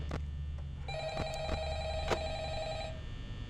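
An old-fashioned telephone rings in the Five Nights at Freddy's horror video game, with a few bright repeated rings over a low electronic hum.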